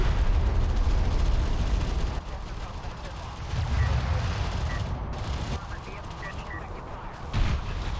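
Video game battle explosions and gunfire rumble heavily as a support cruiser goes down, dense booming bursts surging and fading under continuous commentator talk.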